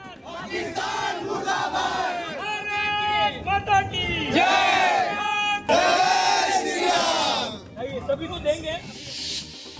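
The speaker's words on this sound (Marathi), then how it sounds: "पेढे वाटत जल्लोष साजरा करण्यात आला।" A crowd celebrating a military strike at a rally in Mumbai, cheering and shouting together in loud, sustained bursts with whoops and raised voices throughout.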